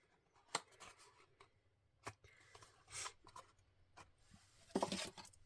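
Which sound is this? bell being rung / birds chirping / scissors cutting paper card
scissors cutting paper card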